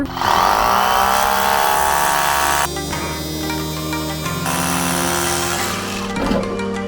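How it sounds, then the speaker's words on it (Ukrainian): A loud cordless rotary hammer whines and grinds steadily at close range, its pitch dropping and shifting as a 12 mm bit bores into hard brick. "давайте тепер міцнішу цеглу посверлимо. Бур 12 мм."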